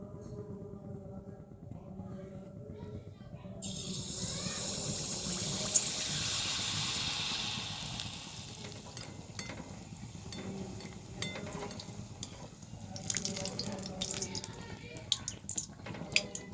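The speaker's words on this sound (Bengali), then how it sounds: "সাদা তেলটা গরম হয়ে গেছে। এবার আমি তেলের পিঠে ভেজে নেব।" Teler pitha batter frying in hot white oil in a kadai gives a steady, moderate sizzle with a rush of hiss when it goes in and scattered crackles afterward, while a voice talks quietly over it.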